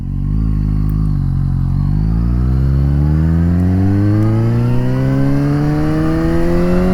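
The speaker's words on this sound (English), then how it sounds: "Let's rev it up a bit, eh?" A Suzuki GSX-S750 motorcycle engine revs loud and close, its pitch climbing steadily from idle over several seconds with no voices.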